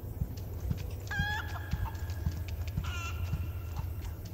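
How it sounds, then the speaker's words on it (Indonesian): A chicken in Resident Evil 4 Remake gives a few short clucks and squawks over a steady rhythmic clopping of hooves, all at a moderate level with no talk. "Ayam, ayolah bertelur."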